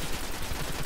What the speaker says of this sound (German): Oh, wir werden geschossen.